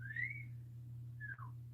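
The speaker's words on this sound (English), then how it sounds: "he's out there whistling now. He's learned how to whistle." A child whistles two short rising-and-falling notes, faint and alone against a steady low electrical hum, with a brief pause between them.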